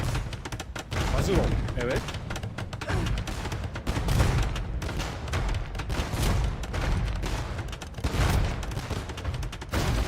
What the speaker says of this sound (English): he's definitely made like 10 bombard cannons for sure